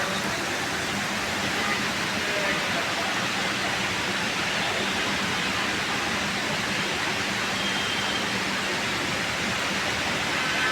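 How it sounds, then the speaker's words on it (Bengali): Heavy monsoon downpour over Dhaka near the Kawla airport area, a dense, steady hiss-like roar that fills the whole stretch without letup, loud and unbroken, with no voices. "এত বৃষ্টি আছে, পুরো অন্ধকার হয়ে গেছে,"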